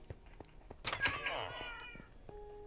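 Cats in the Minecraft video game meow, with one prominent drawn-out meow in the middle and fainter sounds around it, close and clear.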